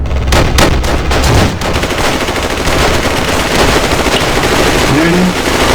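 Rifle volley at a memorial in the WWII Online video game: loud, dense bursts of gunfire crackling across the opening second and a half, then a sustained rumbling din with a faint voice underneath.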